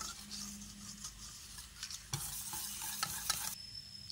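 A spoon stirs ingredients together in a bowl for a baked cheesy veg egg pasta, scraping steadily and close up with a few sharper knocks near the end. No voices are heard.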